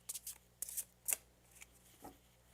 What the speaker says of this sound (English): I'll keep shuffling while you get your question ready.